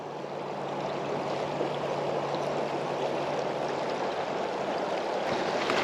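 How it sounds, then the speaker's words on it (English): A fast-flowing creek at Crazy Creek Campsite rushes in a loud, continuous wash of water, close and steady throughout with no talk. "That water is flowing fast."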